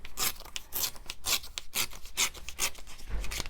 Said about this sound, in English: going to trim this down by tearing